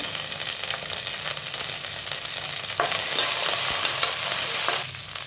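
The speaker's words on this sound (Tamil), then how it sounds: "கருவேப்பிலை கொஞ்சமாக போட்டுக்கலாங்க" Curry leaves and garlic sizzle steadily in hot oil for tomato chutney, a dense, close crackling hiss with occasional stirring scrapes and a brief louder spit midway.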